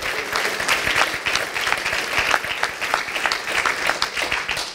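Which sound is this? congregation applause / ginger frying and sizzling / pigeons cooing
congregation applause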